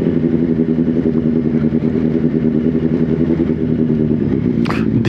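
Big motorcycles riding on the road, including a newly launched ZXJC 500RR, with a steady, loud engine drone running throughout and a brief clattering burst near the end.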